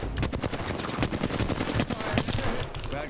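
Rapid automatic weapon fire in the battle royale shooter Apex Legends on PC, long bursts of closely spaced shots rattling steadily, loud and near, with other combat sounds mixed in.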